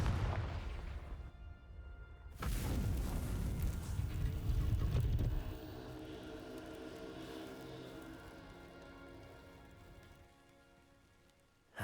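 A Confringo blasting spell goes off in Hogwarts Legacy, a loud rumbling explosion surging in around two seconds and crashing for several seconds, then settling into a long fading debris rattle and tail, with a brief sharp hit at the very end.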